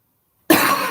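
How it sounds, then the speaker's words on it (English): A single sharp cough from a person, close and loud, bursting in abruptly after silence. "this cough does not want to go today."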